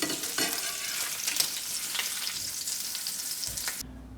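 Continuous hissing sizzle of instant ramen frying in a pan, close and steady, cutting off abruptly near the end.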